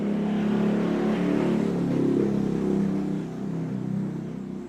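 A motorcycle with a loud modified knalpot brong exhaust revs close by, a continuous raspy low-pitched engine drone that swells and eases slightly with no voices over it.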